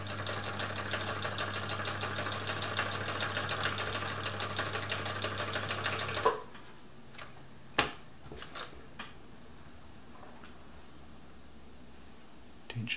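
A classic Husqvarna Viking Automatic 21e sewing machine runs a full-width stitch, whirring steadily and close for about six seconds, then stops, leaving a few sharp clicks and light handling taps.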